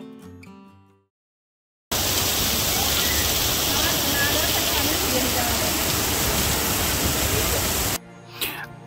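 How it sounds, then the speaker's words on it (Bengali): Heavy monsoon rain pours down at Dashashwamedh Ghat in Varanasi, a dense, steady roar that starts abruptly and holds evenly for about six seconds before cutting off. "পরিষ্কার আকাশ থাকতে থাকতেই নামলো মুষলধারে বৃষ্টি।"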